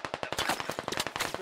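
A rapid, dense string of loud close-range gunshots in the video game Squad, cracking in quick succession with no pause.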